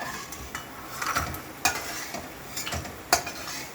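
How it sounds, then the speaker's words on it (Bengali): Dal bori, lentil dumplings, fry in a pan for a greens dish, a soft continuous sizzle broken by several sharp clinks and scrapes of a stirring utensil. "শাক ভাজা হবে, তার জন্য ডাল বড়ি ফ্রাই করা হচ্ছে।"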